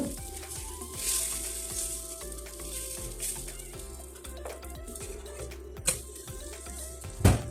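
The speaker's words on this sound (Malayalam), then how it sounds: "നമ്മൾ ഓരോ ദോശയായിട്ട് ചുട്ടെടുക്കുകയാണ്" Dosa batter cooks on a hot pan in a home kitchen, giving a quiet, steady sizzle with occasional clinks and scrapes of a utensil and a sharp clatter near the end.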